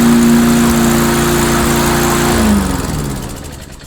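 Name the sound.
Mastercraft lawnmower engine running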